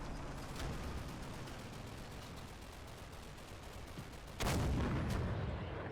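A Panther tank fires a shot in a Combat Mission tactical war game, a sudden heavy boom that breaks a low rumbling battlefield background and rolls away.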